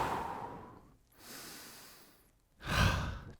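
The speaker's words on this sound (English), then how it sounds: "give me one big inhale through your nose and one big exhale through your mouth" Near, close-miked breathing at the end of a TRX suspension-trainer total-body conditioning workout: a deep inhale through the nose, then a long exhale through the mouth. The final breath is the loudest, with soft airy rushes and brief pauses between them.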